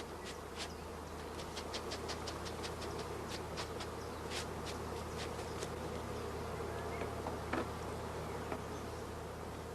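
A dense swarm of honey bees buzzes steadily as they are brushed from hive frames into a nursing stock, with quick higher flicks and whirs of single bees darting close over the continuous drone.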